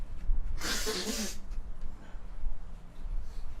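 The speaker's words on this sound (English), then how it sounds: "Gonna sneeze." A single sharp, close sneeze from a person bursts out near the start, followed by quiet breathing and faint room noise.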